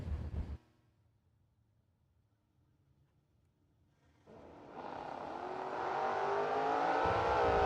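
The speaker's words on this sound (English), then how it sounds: "Barclay, a tough customer anytime he shows up on the property driving that little Achieva" Little Achieva race car at a drag race: a short burst of engine noise, a quiet lull, then a loud rising roar of acceleration that builds and holds, heard from a distance without talk.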